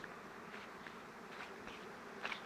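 Bees hum steadily around a bee pavilion built from Palyvoda 'horned' hives on a rural apiary moved to sunflower fields in Poltava region, a dense continuous buzz with individual insects passing close now and then.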